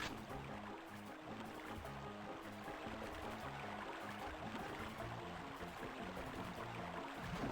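Steady rushing waterfall hidden in a level of the Star Wars: Dark Forces video game, a continuous broadband wash of falling water with a faint repeating musical pattern underneath, evenly loud throughout.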